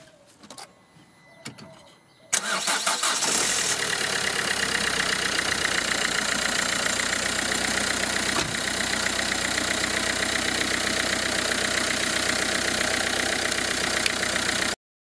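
A car engine cranks briefly and catches after a jump start from a 12V 3000A battery booster power bank, then settles into a steady, loud idle that runs on alone with no talk.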